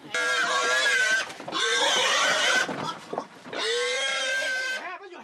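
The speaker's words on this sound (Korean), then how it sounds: "돼지 한 마리와 남자 4명이 한바탕 줄다리기를 하고 있습니다." A pig squeals loudly and shrilly in long repeated bursts while four men pull it in a tug-of-war in a village household, with brief pauses and some scuffling between cries.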